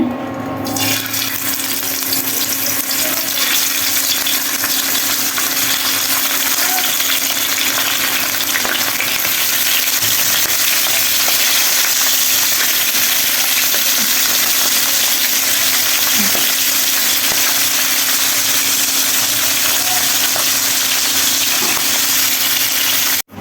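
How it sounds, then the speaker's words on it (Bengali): Tengra fish frying in hot oil, giving a loud, dense, continuous sizzle and crackle that holds steady for over twenty seconds, close up and with no talking. "ট্যাংরা মাছ ভাজি করব, তেলে দিয়ে দিচ্ছি।"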